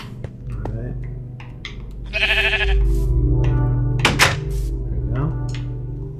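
Sheep in the Minecraft video game bleating a few times over game sounds and thumps, with people talking throughout.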